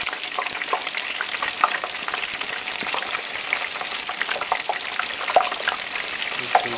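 Steady, loud crackling and sizzling of a turkey frying in hot oil, with sharp pops scattered throughout and no voices.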